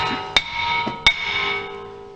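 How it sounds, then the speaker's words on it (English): Two sharp metallic hammer strikes on a rusted brake rotor of a Dodge Avenger, each ringing briefly with a faint lighter tap between them. "You just gotta grab a hammer, give them a little bit of persuasion."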